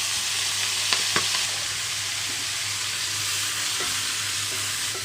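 Chopped spinach tipped into a hot pan for a spinach and onion-chili fry sizzles in a steady, loud hiss, with a couple of sharp clicks near the start as the greens go in.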